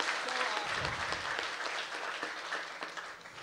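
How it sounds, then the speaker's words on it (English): An audience at the Hackaday Prize award ceremony claps for the finalists, a dense, continuous round of applause from many hands at steady volume with some murmur in the crowd. "One last round of applause for them."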